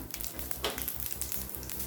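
Mustard seeds, urad dal and dried red chillies crackle and sizzle steadily in hot oil in a kadai, tempering for curd rice, a dense close-up frying hiss with no voices.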